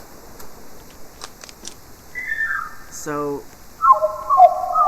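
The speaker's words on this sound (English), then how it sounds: "that chirping sound is Mondo Chick" Mondo Chick in the video game Bee Swarm Simulator gives a few quick tonal chirps, with a sharper burst of chirping near the end, over quiet game sounds and a brief spoken word.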